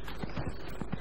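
Horse hooves clip-clopping in the Dragon Age Inquisition video game, a few quick muffled thuds in an uneven gallop rhythm over steady background game ambience.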